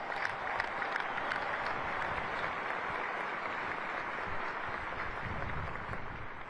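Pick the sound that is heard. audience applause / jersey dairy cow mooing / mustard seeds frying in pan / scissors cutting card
audience applause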